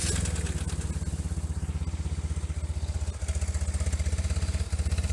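A 1997 BMW R1100RT motorcycle engine running at a steady idle, loud and close, with an even throbbing pulse and a brief dip midway, no talking over it.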